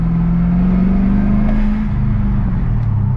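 Manual Holden Commodore SS engine droning steadily under load while driving through the gears, a loud, close low rumble inside the car with a slight pitch shift as revs change.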